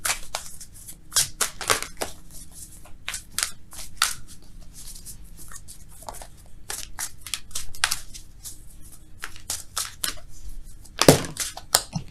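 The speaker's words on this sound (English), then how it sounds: "Let's shuffle for real, though, okay?" Repeated crisp papery snaps and flicks of tarot cards being shuffled, an irregular rhythm of sharp clicks continuing for several seconds, close up with no talking.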